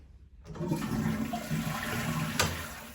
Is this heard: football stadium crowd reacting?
no